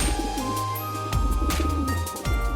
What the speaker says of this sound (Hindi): ये कबूतर यहाँ कैसे आया? कौन लाया इसे?